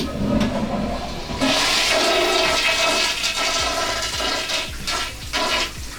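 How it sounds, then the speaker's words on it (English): A hotel toilet flushes up close, opening with a sudden loud rush of water that swirls and gurgles for several seconds as the bowl drains and refills, with no voices. "Let's try the flush."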